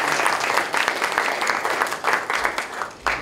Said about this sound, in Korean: 원내 대표님도 여러분 큰 환영의 박수로 맞아주시기